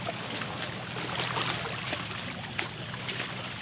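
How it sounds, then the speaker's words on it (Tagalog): Strong waves slap against the water and hull around a small boat out at sea, a steady loud wash and churn that runs throughout with no voices. "Tapos malakas ang hampas ng alon."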